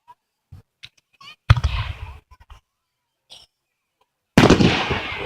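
Scattered fireworks pop and crackle outdoors: a few small isolated cracks, then a sharper burst with fizzing crackle, and later a second loud burst that keeps hissing.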